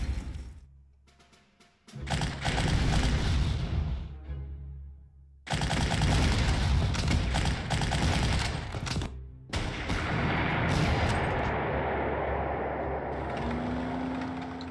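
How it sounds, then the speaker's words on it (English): Heavy artillery and gunfire in the wartime strategy game Panzer Corps, with loud, dense bursts of booming fire that cut out briefly and return, with no talk over them. "I'm suppressing the artillery so I can take out the fort"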